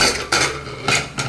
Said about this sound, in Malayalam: ഇനി നമുക്ക് കുക്കർ തുറക്കാം.